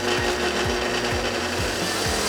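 Rust being knocked off a brake drum spinning fast on an improvised rig during a Datsun 280Z restoration: a loud, continuous grinding rasp with a steady rhythmic thump repeating about twice a second as the drum turns.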